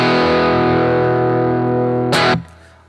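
Rickenbacker 330 electric guitar driven through an EarthQuaker Devices Plumes Tube Screamer–style overdrive, a sustained bright, gritty chord ringing out alone and close, then a sharp burst of noisy strum before it cuts and fades.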